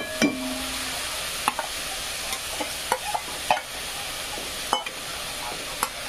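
Onion fries in a pan for paneer tikka masala, a soft steady sizzle with occasional sharp clinks and scrapes of a spoon stirring, fairly quiet and close, with no talking.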